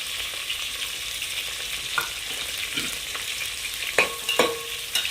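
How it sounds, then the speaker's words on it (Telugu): Chopped onions and green chillies frying in oil in a pan for vegetable pulao, with a steady bright sizzle throughout and a few scrapes and taps of a spoon stirring near the end. "సో ఆనియన్స్ కూడా ఫ్రై అవ్వాలి"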